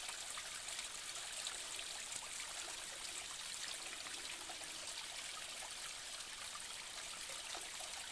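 A small mountain stream in the Branisko wilderness cuts through rocks and spills over little waterfalls into small pools, giving a steady, even hiss and trickle of running water, moderately faint and unbroken, with no voices.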